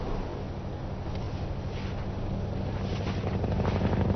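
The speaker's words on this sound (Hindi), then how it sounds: "हेलीकॉप्टर की आवाज है" A helicopter's rotor thuds steadily and loudly, a continuous pulsing drone that swells slightly toward the end.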